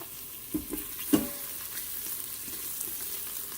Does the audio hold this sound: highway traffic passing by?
no